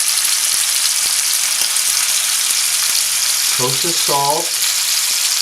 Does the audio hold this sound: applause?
no